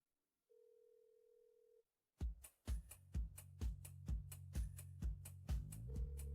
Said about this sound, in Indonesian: Angkat teleponnya.